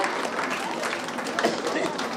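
Audience applause for yoga world record holders at a World Yoga Day event, a steady dense wash of clapping that holds at an even level throughout, with voices mixed in under it.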